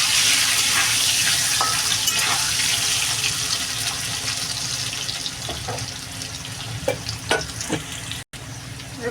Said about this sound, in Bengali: আলুটা কিন্তু ভাজা ভাজা হয়ে গেছে